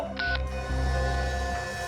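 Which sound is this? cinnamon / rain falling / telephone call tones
telephone call tones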